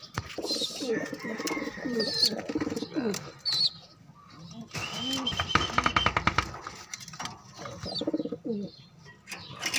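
Pigeons coo in soft, close bursts while being released, with a flurry of flapping wings midway and a person's voice speaking between the calls.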